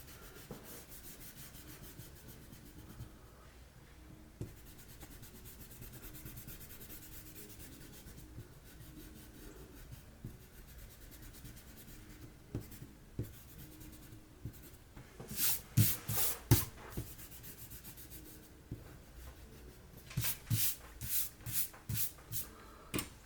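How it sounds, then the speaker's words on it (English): Eraser rubbing on a paper drawing of a dinosaur skull, faint close scratchy scrubbing, steady and soft at first, then brief quicker bursts of brisker strokes later on. "I might clean up a little bit with my eraser."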